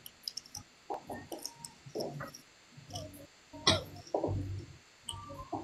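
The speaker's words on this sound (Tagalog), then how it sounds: "Lahat kami, inuubo kami rito eh." Several short, harsh coughs in irregular bursts, fairly close, with brief quiet gaps between them.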